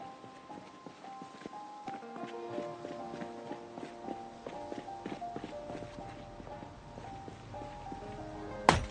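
Footsteps of a character walking in Project Zomboid, a steady, even run of soft thuds over quiet game ambience, with a louder knock near the end.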